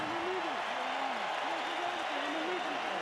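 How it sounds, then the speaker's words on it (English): A boxing arena crowd applauds heavyweight Corrie Sanders of South Africa, with a steady, distant wash of clapping and crowd noise while a commentator talks over it. "a round of applause for this gentleman from South Africa who refused to quit"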